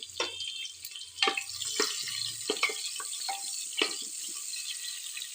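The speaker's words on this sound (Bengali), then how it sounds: "পেঁয়াজ কাটা আছে দিয়ে দেব দিয়ে ভালো করে এটা লাল লাল করে ভেজে নেব" Onions and bay leaves frying in hot oil in a home kitchen pan, a steady close sizzle broken by a few sharp clatters and stirring knocks, with no talking.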